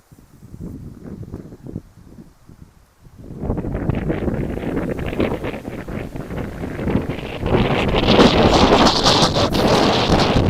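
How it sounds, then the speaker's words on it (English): Wind blowing hard on a windy morning in Regina, with heavy gusty buffeting on the microphone that starts lighter, surges after a few seconds and stays strong and close throughout, with no talk. "The wind is coming from more or less the north, northwest."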